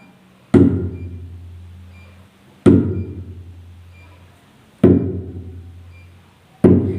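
Four sharp kendang drum "dang" strokes, played with the middle finger, each ringing out with a deep, resonant decay, spaced about two seconds apart with nothing else in between.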